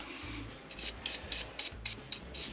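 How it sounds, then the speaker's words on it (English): A nylon brush scrubs a fuel pump part clean on a Foxbody fuel pump job, making a soft, steady rubbing rasp with repeated brisk strokes, close and fairly quiet. "Yeah, let's brush it off."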